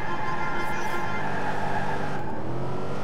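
A police car driven in the video game Watch Dogs 2, its engine note steady and loud with a continuous motor drone and faint higher harmonics, holding fairly even throughout with no talk over it.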